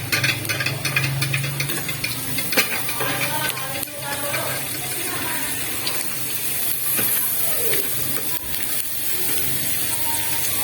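Sliced onions hit a hot pan and a steady, close sizzling hiss runs through the whole stretch with faint clattering, loud and unbroken.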